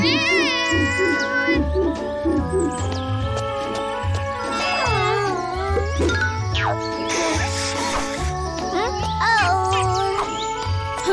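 Cartoon kitten mewing in a bright series of short, high, wavering cries over a busy musical score with bells and tinkling, all close and fairly loud.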